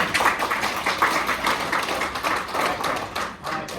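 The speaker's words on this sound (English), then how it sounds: "Clap your hands, everybody." An audience at a multiple sclerosis presentation in Flowood, Mississippi claps hands together, a dense, steady patter of applause from a roomful of people, fairly close and lasting throughout.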